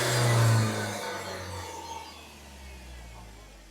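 Kia Bongo truck with a 2.4-litre propane engine running, a steady low hum that swells loudest at the start and then settles to an even drone, with no talk.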